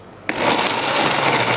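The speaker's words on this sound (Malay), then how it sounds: "Dan kita kisarlah sehingga dia halus." A blender kicks in abruptly and runs steadily, grinding a rendang spice paste of lemongrass and other aromatics until smooth, with a loud, sustained whirring roar and no talking.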